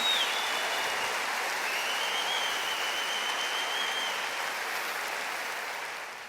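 A church congregation applauds during a Portuguese-language sermon: dense, steady clapping fills the space without a break and fades gently at the very end, with no voices heard.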